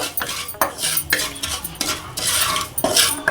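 Sugar and tea leaves being stirred in a pan, a spoon scraping and clinking against the metal in quick irregular strokes, close and fairly loud, with no talking.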